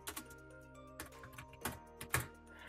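Keys tapped on a compact Raspberry Pi 400 keyboard, a few soft, irregular clicks and clacks close by in a quiet room.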